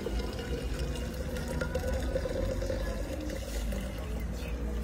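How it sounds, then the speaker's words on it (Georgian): Boiled water pours into a jar over linden for tea, a continuous soft splashing gurgle at close range with no talk. "დუღარე წყალს დავასხამთ"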